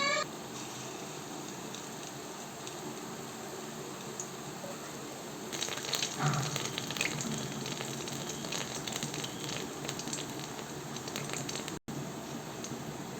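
Urad dal vadai dropped into hot oil, a steady crackling sizzle that grows busier partway through as the batter hits the oil, close and continuous with no talk.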